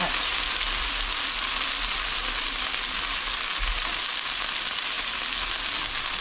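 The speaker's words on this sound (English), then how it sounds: "it's going to take about 5 minutes or so to brown up all this chicken" Chicken pieces searing in a pan for cacciatore make a loud, steady, close sizzle that crackles evenly without pause, no voices over it.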